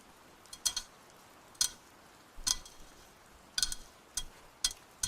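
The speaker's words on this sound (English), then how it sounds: "This is the sound of me scratching my water bottle." Fingers scratch and tap on a water bottle in a quiet room, making about eight sharp, brief ticking clicks at irregular intervals, close and soft.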